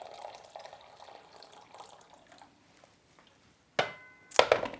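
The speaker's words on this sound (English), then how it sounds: "I've boiled the kettle and I will now pour that into just a very bog standard Pyrex jug" Boiled water from a kettle is poured into a shallow, standard Pyrex glass jug, a steady low splashing pour that fades out before two louder sharp clunks close by.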